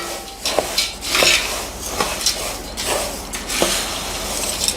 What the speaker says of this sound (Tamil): இப்போது நல்லா கலந்து விட்டுக்கோங்க.